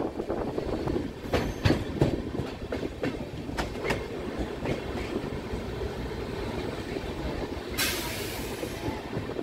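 Rupasi Bangla Express running from Santragachi toward Purulia, a close, continuous rolling rumble with rapid clickety-clack over the rail joints, squealing wheels and a sharp burst of hiss near the end.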